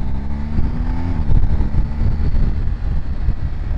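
A 2021 BMW R1250GS Adventure 40th Edition motorcycle pulls from 3000 RPM as the throttle opens. The engine tone climbs briefly, then merges into a loud, steady roar of engine and rushing wind from the rider's position.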